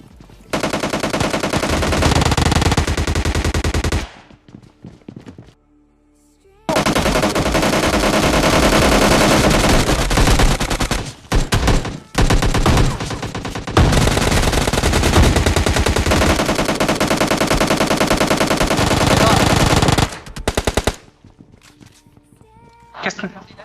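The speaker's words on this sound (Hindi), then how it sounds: "और तभी आती है गोलियों की आवाज।" Rapid bursts of automatic gunfire with game-like sound effects, loud and close, broken by short pauses and quieter stretches.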